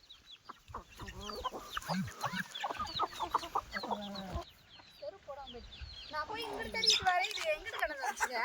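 A hen clucks steadily amid a busy flock of chirping chicks, the calls close and continuous, growing louder and denser toward the end.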